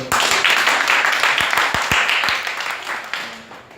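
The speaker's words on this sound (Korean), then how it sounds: "박수 한번." A church congregation breaks into applause, a full, bright burst of many hands that gradually thins and fades, with a few distinct claps standing out.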